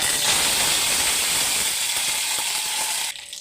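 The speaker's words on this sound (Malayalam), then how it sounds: "കടുക് പൊട്ടി വരുമ്പോൾ നമുക്ക് കറിവേപ്പില ഇട്ട് കൊടുക്കാം" Mustard seeds sputter in hot coconut oil in a pan, a dense, loud hiss and sizzle that stays steady for about three seconds and then suddenly drops to a quieter crackle, with no talking.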